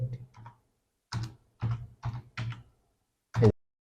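Keys are pressed on a computer keyboard while typing in Adobe Illustrator. There are a few quick taps, then several separate, close keystrokes spaced by short pauses, and a final firmer press.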